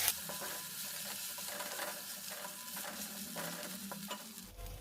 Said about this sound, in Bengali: দেখো, মশলাটা ভাজা হয়ে গেল